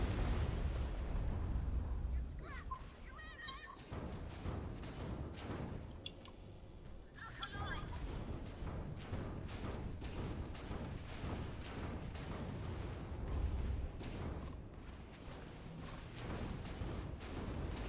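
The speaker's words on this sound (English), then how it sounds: "See if I can't get his shields down to show you what these ballistic weapons are like." Ballistic weapons fire at a ship in a space combat video game, a series of heavy booming impacts and bursts over a continuous rumble, with a few sharper blasts standing out and a voice talking intermittently.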